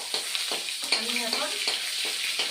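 Chopped tomatoes and two bay leaves hit hot oil in a pan for a Bengali mutton curry with papaya, giving a steady close sizzle broken by a few sharper crackles and the scrape of stirring.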